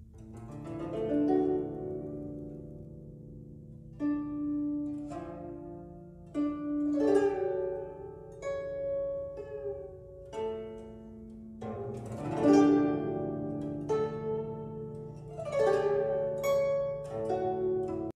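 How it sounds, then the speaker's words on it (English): Gentle composed music with soft sustained tones and slow, gentle downward glissandos gliding onto particular notes, unfolding in phrases with a few brighter swells, moderately loud and alone. "Lots of very gentle downward glissandos to particular notes."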